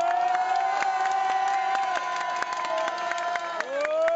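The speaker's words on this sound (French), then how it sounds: "Donc des nouveaux applaudissements pour Dalila, s'il vous plaît." Crowd at a support rally for striking postal workers applauds and cheers steadily, with dense clapping, whoops and shouts running continuously at close range throughout.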